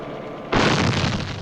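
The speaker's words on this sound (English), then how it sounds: "Artillery fire" Vietnam War artillery fire: a single sudden loud blast after a quiet lead-in, with a broad roaring rumble that sustains and slowly fades over the following second.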